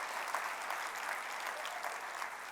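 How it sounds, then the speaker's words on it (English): Steady, even applause from a large keynote audience at a data technology summit, a continuous wash of many hands clapping at moderate volume with no break. "How about a round of applause for our exhibitors?"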